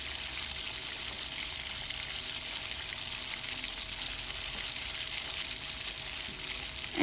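Chopped garlic and onion fry in a pan with a loud, even, continuous sizzle that holds steady throughout, with no talking.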